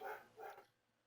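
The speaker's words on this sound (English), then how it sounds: "dog's acting nutty." Two quick dog barks in a row, fairly close, then quiet, from a dog acting up indoors while a game streams.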